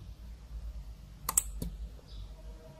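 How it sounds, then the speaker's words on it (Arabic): A push button pressed on a single-switch on/off circuit, giving a couple of sharp close clicks around the middle over a low steady hum, with no talk. "تعالوا نضغط على البوش بوتن"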